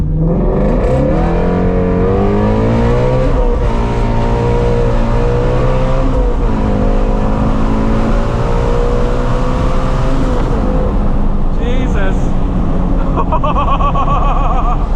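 A Ford Mustang GT350R's engine revs repeatedly up to high RPM nearby outdoors, each rev rising and falling in pitch, loud and continuous with a sustained deep rumble underneath.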